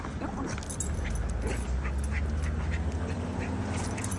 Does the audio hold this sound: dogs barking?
yes